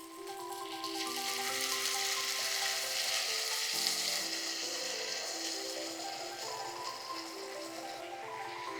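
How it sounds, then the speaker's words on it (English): A big splash of red wine vinegar hits a hot pan and sizzles loudly, a steady, close hiss that gradually softens as the liquid boils off. "I'm about to add in a really big slosh of red wine vinegar, and I need the heat to boil off all that extra acidity"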